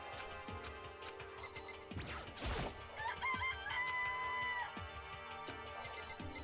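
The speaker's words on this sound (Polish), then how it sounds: "To kurczak" Chickens cluck and a rooster crows in the video game Danganronpa: Trigger Happy Havoc, over looping game music and chiming tones, the calls repeating at moderate volume.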